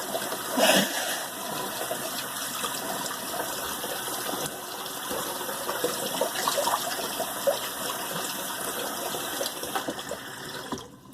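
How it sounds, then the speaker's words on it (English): Tap water runs steadily for a while as shaving soap is rinsed off at a sink, a close, even gush with a louder splash near the start and no talk. "let me rinse this off and I'll be right back"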